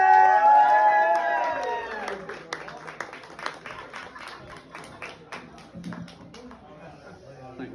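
At an open mic comedy gig, an audience starts a slow clap that speeds up into sharp, scattered applause and whoops, with a voice and tonal sounds at the start before the clapping builds and then thins out.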